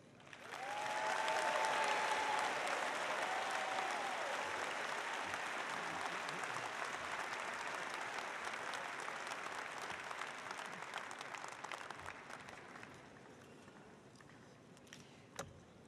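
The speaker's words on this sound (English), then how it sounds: "Another round of applause for our commencement speaker, Tom Smith" Sustained audience applause at a university commencement ceremony, loud and dense at first and then slowly thinning over about fifteen seconds, with a faint voice briefly audible near the start.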